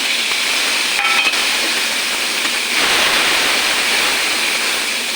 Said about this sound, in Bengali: একটু ঘুরিয়ে জল দিয়ে দেবো